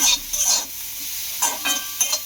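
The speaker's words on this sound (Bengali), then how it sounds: "সবজিগুলোকে 2 মিনিট ধরে হালকাভাবে একটু নাড়াচাড়া করে নিলাম" Vegetables cooking in a pan are stirred lightly with a utensil, giving several short scraping bursts over a soft sizzle, with no voices.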